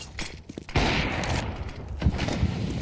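Burst of gunfire and a grenade blast during a Counter-Strike esports match, a sharp onset then dense rattling fire and a second thump, loud and busy for about three seconds.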